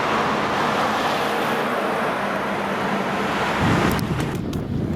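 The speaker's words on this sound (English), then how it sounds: "Kind of a windy day" Strong wind on an open outdoor day buffets the microphone with a constant broad roar, swelling briefly near the end with some faint rattling.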